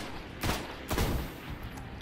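Weapon fire in the video game Destiny: two loud, sharp single shots about half a second apart, followed by fainter reports and game noise, with no talking.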